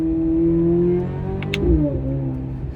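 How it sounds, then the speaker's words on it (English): A Corvette C8 Z06 engine holds a steady high drone on a cold day, then dips and surges in a short rev, loud and close with no talking. "if you don't like the sound of this car"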